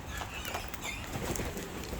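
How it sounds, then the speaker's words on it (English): Pigeons and other birds coo and flap their wings at close range, soft and faint, with a steady mix of fluttering and low cooing calls. "More birds."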